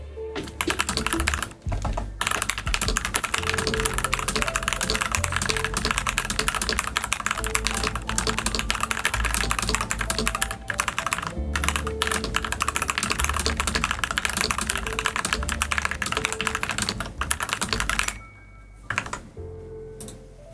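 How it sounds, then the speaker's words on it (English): Steady, dense typing on a new mechanical keyboard, keys clacking continuously for about eighteen seconds before trailing off into a few scattered strokes, close and fairly loud with no talking. "I'd do my entire stream capturing the keyboard sounds if I could."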